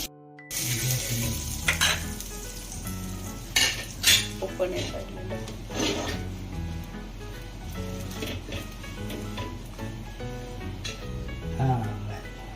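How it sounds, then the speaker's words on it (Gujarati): Butter and chutney sizzling in a pan for pav bhaji, a quiet steady fry under clinks and scrapes of a utensil stirring against metal, with a voice talking over it. "તો બટર નાખી એમાં થોડી ચટણી નાખીશું"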